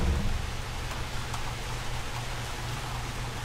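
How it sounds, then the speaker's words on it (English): Steady rain hisses and patters in the Jurassic World Evolution video game, a constant wash of close rainfall with a few brief louder drops. "Oh, look at the rain effects."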